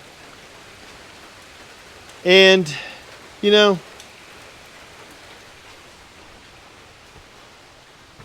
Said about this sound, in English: it's raining here in South Louisiana